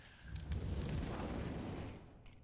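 A grenade blast in Counter-Strike during a BLAST Premier Fall Showdown 2023 esports match, a dull, rumbling boom that swells and holds for about two seconds before fading.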